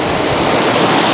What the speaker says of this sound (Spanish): Por acá toda la caída del río.